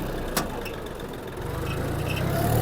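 Yanmar F-20 mini tractor running at top speed in third gear, a low steady engine hum that grows a little louder toward the end, heard close and alone apart from a brief click near the start.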